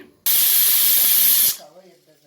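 A pressure cooker cooking avare kaal bhat, a rice dish with field beans, lets out a single loud, steady whistle of escaping steam that lasts over a second, then cuts off sharply into quiet.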